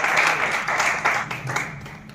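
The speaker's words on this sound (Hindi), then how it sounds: "सभी लोग तालियां बजाकर स्वागत करेंगे।" Audience clapping at a student awards ceremony, a moderate wash of applause that swells and dips in waves, fairly distant and without voices on top.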